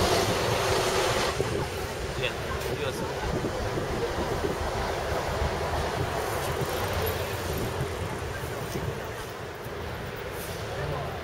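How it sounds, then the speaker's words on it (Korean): Steady wind blows hard across the microphone outdoors at a street protest, a continuous broadband roar that eases slightly toward the end. "바람 불어가지고"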